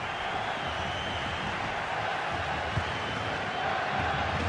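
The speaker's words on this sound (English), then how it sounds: "Well, just listen to this crowd." A large stadium crowd in FIFA 22 during a Villarreal vs Liverpool Champions League match gives off a steady, dense roar with no clear peaks.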